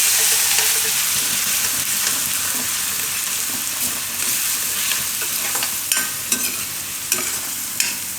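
Garlic fries and is stirred in hot oil in a pan for garlic raita, with a steady close sizzle and a few clinks of a spoon toward the end, no voices.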